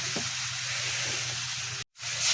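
Steady loud sizzle and hiss of cauliflower frying in a hot pan as water is poured in, a continuous bubbling hiss with a brief dropout near the end.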